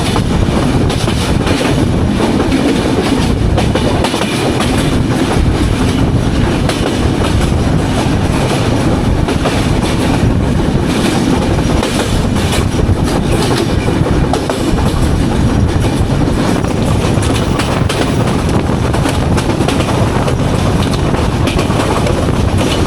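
Aboard the Banolata Express passing Arani station, a loud continuous rumble of wheels on track with steady clickety-clack, the din unbroken and close from start to finish.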